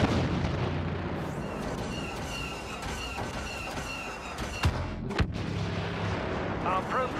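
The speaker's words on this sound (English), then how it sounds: "Rebel Y-Wings are making their attack run" Explosions and gunfire from a Rebel Y-Wing attack run in the Star Wars Battlefront video game, a constant loud battle rumble with scattered blasts and sharp bursts near the end.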